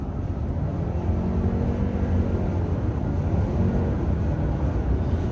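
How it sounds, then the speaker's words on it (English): A continuous low engine drone from a 2023 Lexus RX350h hybrid SUV holds steady for several seconds, rumbling evenly with slight rises and falls, vacuum-cleaner-like, no voices. "that's what you're hearing, is that engine revving and just kind of modulating itself"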